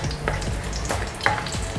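Bay leaf, cinnamon, star anise and cloves fry in hot ghee with a steady close sizzle and a few soft stirring clatters, no voices.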